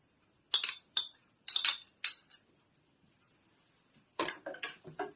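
Cheesecake crust crumbs being stirred with melted butter in a bowl, a run of close, sharp utensil scrapes and clinks in short bursts, a pause of near silence, then another quick cluster of scraping strokes.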